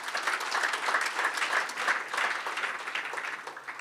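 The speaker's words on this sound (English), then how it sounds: "Give the team a round of applause." Applause from an audience at a sports association's AGM and awards evening, moderately loud and continuous with a lively, rippling clap rhythm that tapers slightly toward the end.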